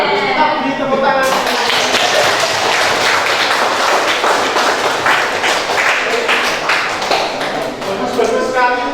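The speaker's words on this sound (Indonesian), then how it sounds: "kita beri tepuk tangan." A classroom of students breaks into sustained clapping for several seconds, a dense, steady patter of many hands that carries evenly through the room.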